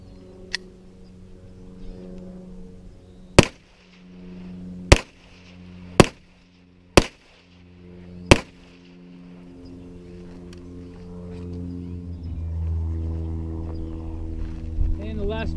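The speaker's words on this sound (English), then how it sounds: "here's 5 loads of the Winchester rounds" Five sharp, loud shots from a Smith and Wesson 422 pistol firing Winchester rounds, spaced about a second or more apart outdoors, with a low engine-like hum in the background.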